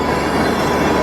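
Train passing at New Delhi railway station, a loud close rumble of wheels on rail with a metallic squeal, heard alone over the brief moment.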